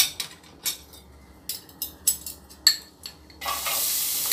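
Onion sautéing in a spoonful of olive oil, with a spoon clinking and stirring in short bursts before a steady loud sizzle takes over near the end, close up.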